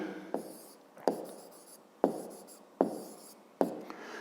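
Pen writing down a 5th-grade math solution on paper, soft scratchy strokes punctuated by five crisp taps at irregular intervals, close and quiet with no voices.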